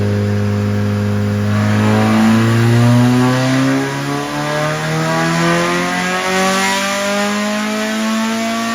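A Nissan Silvia on a dyno revs loud and steady, the engine note climbing and holding with a smooth harmonic drone that dips briefly before rising again, with no voices.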